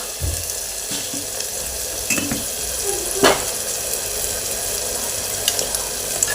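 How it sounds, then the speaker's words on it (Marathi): Spice masala with salt is dry-roasted in a pan, giving a steady soft sizzle with occasional clinks and scrapes of stirring against the metal. "हा सर्व मसाला एकसारखा छान भाजून घ्यायचा आहे।"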